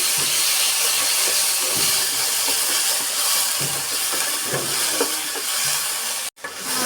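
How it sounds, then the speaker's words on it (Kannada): Palak paneer ingredients, including green chillies, roasting in a pan, giving a steady loud sizzling hiss with faint stirring knocks, cut off briefly near the end. "ಸ್ವಲ್ಪ ಹಾಗೆಯೇ ಸ್ವಲ್ಪ ರೋಸ್ಟ್ ಮಾಡ್ಕೋತಾ ಇದ್ದೀನಿ"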